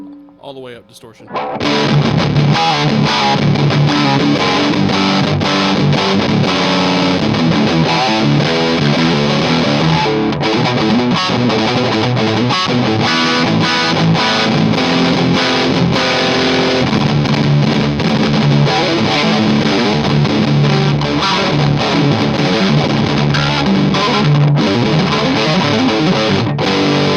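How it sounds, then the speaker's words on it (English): Electric guitar played through a Mooer Black Secret distortion pedal with the distortion knob turned all the way up, giving a dense, saturated, loud stream of chords and riffs that runs continuously from about two seconds to the end. "All the way up distortion"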